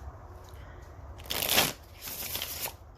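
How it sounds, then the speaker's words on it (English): A tarot card deck is shuffled close by: soft riffling that builds into a crisp, bright flutter of cards, pauses briefly, then riffles again more lightly. "Shuffling your tarot deck."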